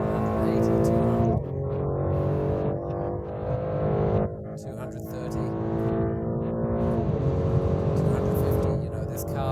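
A car accelerates hard at very high speed on the Autobahn, its engine droning loud and close with rising pitch between gear changes, while someone talks over it.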